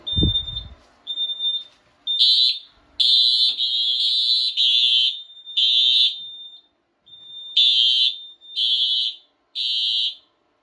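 A Simplex 4100 fire alarm system sounds in pulsed bursts of a loud, shrill, high-pitched electronic tone, repeating roughly once a second with short gaps, after a brief thump at the start.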